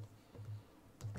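Tarot cards shuffled by hand, a few soft, rapid riffling and tapping bursts, quiet and close, with no voices.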